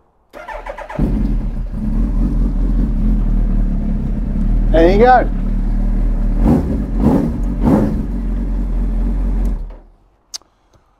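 A Suzuki Hayabusa motorcycle engine cranks and fires up, then revs a few times in short bursts before cutting off; a voice briefly speaks.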